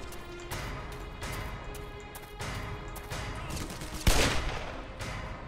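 Gunfire from the video game Black Mesa, a burst of distant, muffled shots amid a busy, noisy game scene, with one sharper, louder crack near the end.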